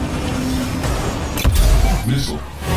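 A Turbo speed boost fires in the WipEout Omega Collection racing game: a sharp whooshing surge cuts through a steady engine drone partway in. A voice seems to call out over it, then the drone continues.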